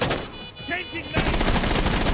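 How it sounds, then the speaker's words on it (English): Loud gunfire in the video game Rainbow Six Siege, dense rapid bursts that build into sustained automatic fire in the second half, with a brief voice in the mix. "Keep shooting at him."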